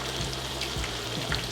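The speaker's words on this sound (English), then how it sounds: "Drop your potatoes in one at a time" Coated potatoes deep fry in hot oil at 375 degrees, a dense, even sizzle and crackle that holds steady throughout, close and fairly quiet with no talking.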